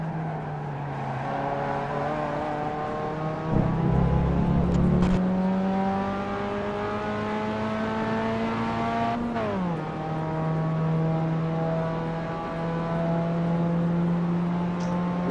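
Race car engine in iRacing at Road Atlanta, a steady loud drone that holds its pitch, briefly shifts near four seconds, then rises and dips again after a gear change, with no talk over it.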